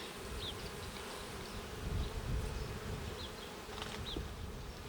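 A dense, steady hum of many honey bees buzzing close by at an open Ukrainian alpine hive, a continuous drone with occasional higher whines as individual bees fly past.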